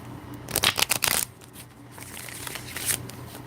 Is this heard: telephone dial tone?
no